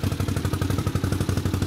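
A Honda CX 500 motorcycle engine on its centre stand, run without choke, with the right cylinder backfiring, throbs in a fast, steady, uneven pulse, loud and close with no talk.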